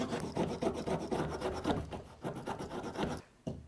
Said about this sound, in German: Und jetzt säge ich hier fast bis zum Rand runter rein.